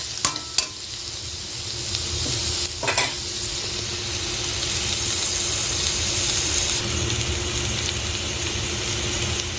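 Potatoes and yardlong beans fry in a wok while being stirred, giving a steady, close hiss of sizzling oil with a few brief scrapes and clinks near the start.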